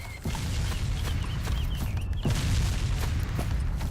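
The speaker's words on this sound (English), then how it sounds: "The random carpet bombing on this massive map, of course, just started above me" Artillery carpet bombing in the Arma 2 DayZ mod, with dense rumbling booms and scattered sharp impacts running steadily throughout. A big swell of blasts hits about halfway through.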